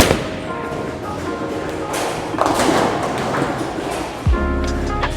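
A Storm Ion Pro solid bowling ball thrown down a bowling alley lane, giving a steady low rolling rumble with a heavy thud, then a sharp clattering impact near the end.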